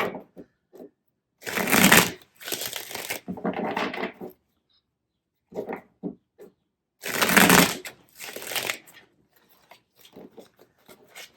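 Tarot cards being shuffled in bursts, a few crisp riffles and rustles separated by silent pauses, close and fairly quiet with no talk.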